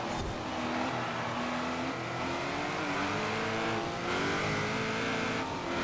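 Engine of the Wangan Midnight Devil Z replica car in Forza Horizon 4, revving and climbing in pitch through several gear shifts, with a sharp shift near the end, loud and continuous.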